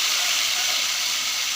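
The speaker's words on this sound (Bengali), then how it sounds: "এবার এটা আমি জল দিয়ে দিচ্ছি।" Water poured into a pan of hot cooked masala hisses and sizzles loudly at close range, a steady steamy rush that persists with no talking.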